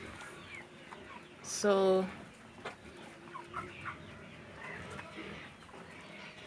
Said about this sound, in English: These are broiler chicken.